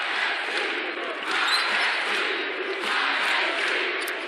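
A basketball arena crowd at a 2020 UALR versus ISU game roars in a dense, sustained cheer that swells and dips over four seconds.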